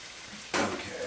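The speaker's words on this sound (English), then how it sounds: "on medium to high heat, the onions are still caramelizing" Onions caramelizing in a pan over medium-high heat give a steady low frying hiss, which swells into a louder, brighter sizzle about halfway through as if they were stirred or moved, then holds at that level.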